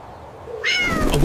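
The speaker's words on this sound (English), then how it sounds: "AumSum's eyes spot a tiny kitten perched dangerously on a tall building ledge." A tiny cartoon kitten perched on a building ledge lets out a single close, clear meow that rises and bends in pitch, following a brief quiet lead-in.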